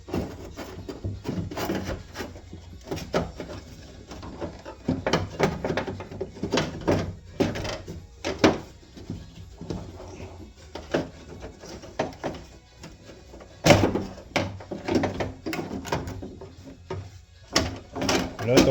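A door handle and lock mechanism are being taken out of a 1996-2000 Honda Civic EK door, giving repeated plastic and metal clicks, rubs and knocks throughout, with someone talking at times.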